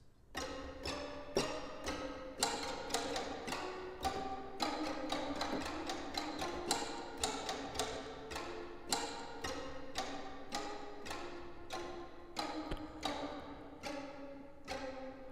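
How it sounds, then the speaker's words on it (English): Dry, wooden tapping from a string section playing col legno, bows turned over to strike the strings, a steady run of sharp percussive strikes with pitched ringing underneath, continuing for the whole stretch without voices. "you basically turn the bow over so that you are hitting the strings"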